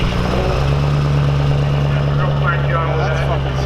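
Scraper tractor engine idling at a grange sled pull, a steady low rumble with a constant hum, loud and close, with people talking over it.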